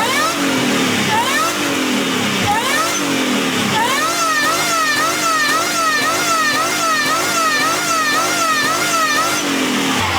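A 1996 Ford F-350 with a 351W V8 revs repeatedly, loud and close, its pitch rising and falling in quick waves with a whining squeal and rattle riding over the engine, no talking.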